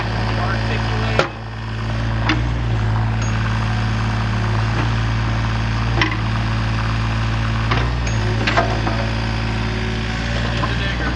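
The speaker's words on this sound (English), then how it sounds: "It's a digger." An articulated digger with a hydraulic pump idles steadily nearby, its deep low rumble continuous throughout, with a few knocks and clanks over the engine.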